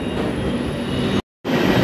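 Train rolling through Madurai Junction station platform, a steady loud rumble of wheels and carriages with a high whine above, broken by a brief cut before the same rolling noise resumes.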